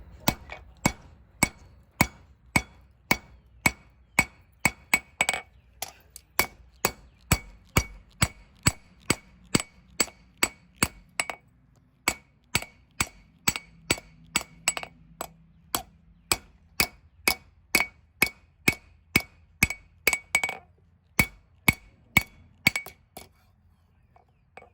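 Steady hammer blows ring on an anvil while the tang of a trail knife is forged, a long run of sharp metallic strikes in an even rhythm with brief pauses, close and clear.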